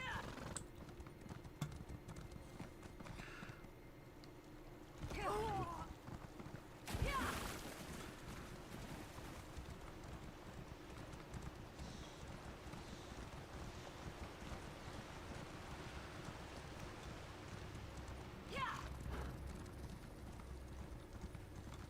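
Horse hooves clip-clopping in the video game Elder Scrolls Online, a faint, steady run of hoofbeats under low background ambience, with a few brief louder bumps.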